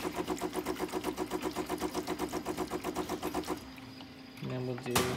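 De'Longhi Magnifica coffee machine pulses with a rapid rhythmic pump buzz, then drops to a quieter hiss as hot water dispenses, followed by a brief louder burst at the end; close and clear.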